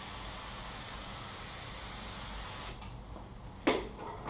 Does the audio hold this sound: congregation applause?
no